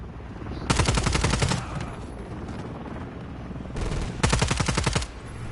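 Two bursts of rapid automatic gunfire from Call of Duty: Modern Warfare 3 rattle out loud and close, separated by a few seconds of quieter game ambience.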